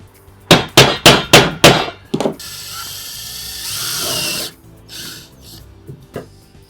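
Five sharp, evenly spaced mechanical bursts, then a short whirring grind of a power drill biting into a track being mounted, followed by a few faint knocks.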